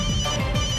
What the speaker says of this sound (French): Réponds au téléphone.